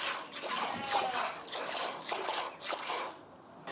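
Goat milk squirting from a teat during hand-milking, a rapid trickling spray repeated in quick pulses, close and fairly quiet, with no voices.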